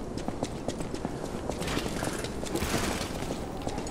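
Hard, rhythmic footsteps in the video game Lies of P clop steadily over a continuous background of ambient game noise, with faint mechanical clinks mixed in.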